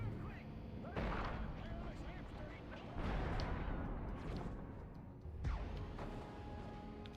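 Enemy gunfire and booming blasts from the video game Destroy All Humans burst repeatedly in loud, heavy waves, with someone speaking under the combat noise.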